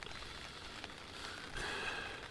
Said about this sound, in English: Raining as well.